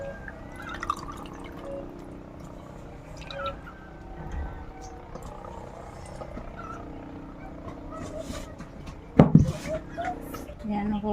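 Fish being washed by hand in a basin of water: soft drips and sloshing close by, mostly faint, with one louder splash near the end, under someone talking.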